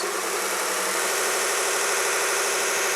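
A Vevor 1x30 benchtop belt grinder's motor and belt run at rising speed, a steady loud whirring hiss with a constant mechanical hum throughout, no voices.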